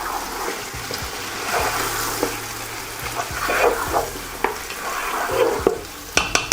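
Lamb frying with browned onions, stirred in a pan for an Eid recipe, giving a steady sizzle broken by repeated scraping and clanking strokes of the spoon, close and without talk.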